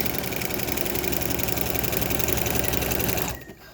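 A sewing machine stitches a cuff onto fabric in a steady, continuous run, loud and close, then stops abruptly near the end.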